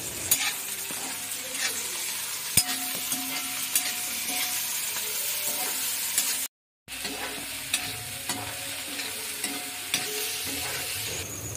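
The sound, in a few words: stirring tomato, chilli and ginger mixture in a pan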